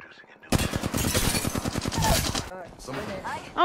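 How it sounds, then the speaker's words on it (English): Automatic gunfire in the video game Apex Legends, a loud, dense rapid-fire burst of about two seconds that starts abruptly, followed by fainter scattered shots. "Oh, I'm getting shot at."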